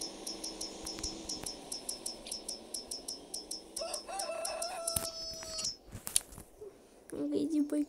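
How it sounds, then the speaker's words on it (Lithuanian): Rooster crowing in Farming Simulator 23, a crow rising out of a quiet farm ambience with repeated ticking clicks and occasional game sounds, while someone talks over it. "Gaidį baig čia klykaut."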